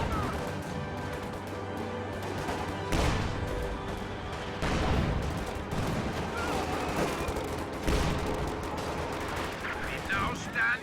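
Gunfire and Panzerfaust fire in a WWII strategy video game, with German Grenadiers firing on a Sherman tank: rattling small-arms bursts and heavy explosive blasts, fairly loud and dense, with a voice talking over them.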